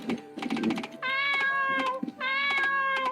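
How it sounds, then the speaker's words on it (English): A cat meows twice while being petted in a video game, two drawn-out, clear meows over a busy background of clicking, tapping game sounds. "Crash out to pet the cat."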